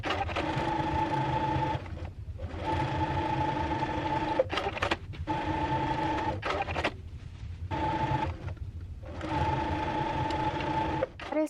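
Sewing machine stitching the shoulder and side seams of a dress bodice, running loud and close in long steady bursts with brief pauses between them.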